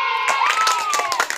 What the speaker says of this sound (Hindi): तालियां तालियां, साबाश साबाश साबाश